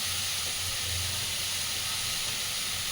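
A vegetable tipped into a hot pan of already salted onions gives off a steady, moderately quiet sizzle and hiss, broad and continuous with a faint low hum underneath and no talking.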